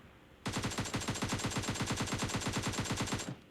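Heavy-weapon-mode automatic gunfire in the mobile game PUBG Mobile Lite, one long sustained burst of rapid, evenly spaced shots at loud, even volume with no voices over it.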